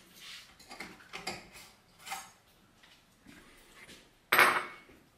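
Knife chopping a boiled egg on a board for a tuna focaccia sandwich: a quick run of light, uneven taps and knocks, close and fairly quiet, ending in one sharper, louder clack.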